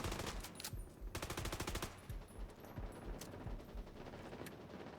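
Video game gunfire, rapid machine-gun bursts and scattered single shots, loud and close, repeating in clusters with short gaps throughout.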